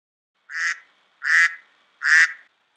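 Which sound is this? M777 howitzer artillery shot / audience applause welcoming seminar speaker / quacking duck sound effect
quacking duck sound effect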